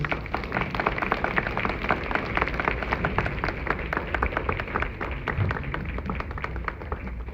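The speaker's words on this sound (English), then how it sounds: "Let us give a big round of applause." Dense, steady applause from an audience at a spiritual gathering honouring a swami, many hands clapping continuously at a fairly loud, even level throughout.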